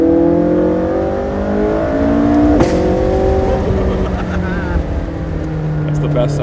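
A McLaren MSO HS (688) sports car engine accelerates on the road, a loud sustained roar with rising gear pulls and a brief shift in the middle.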